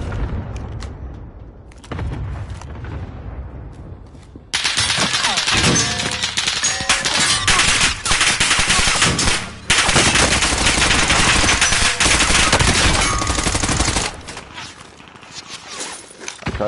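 Sustained automatic gunfire in Call of Duty Warzone, loud and dense, with rapid bursts and booms running through most of the stretch after a quieter, muffled start, then easing toward the end.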